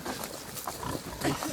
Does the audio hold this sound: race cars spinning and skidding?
no